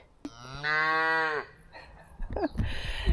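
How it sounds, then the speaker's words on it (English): A young calf, stray and stuck on an abandoned old Roman road, lets out one loud, drawn-out moo close by, followed by a few scuffling knocks and rustles. "Did you hear that? There's like a baby cow running ahead."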